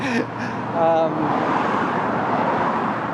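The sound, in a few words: bus passing on road with traffic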